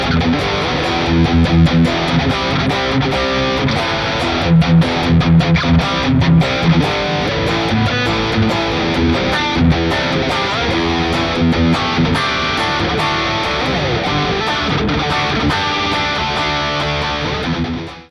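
A heavily distorted electric guitar through a Neural DSP Plini X amp plugin chugs out a loud, aggressive rhythm riff with sharp palm-muted stabs, then rings out and cuts off at the end.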